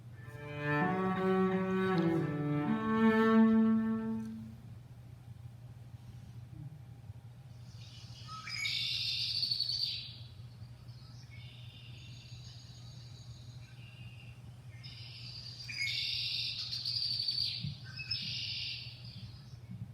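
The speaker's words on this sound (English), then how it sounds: "In the spring swamp, the red-winged blackbird perched on a cattail stalk. Have you heard its song?" A red-winged blackbird perched on a cattail stalk in a spring swamp sings two bursts of buzzy, trilling song over a steady low hum, after an earlier stretch of lower tonal sound.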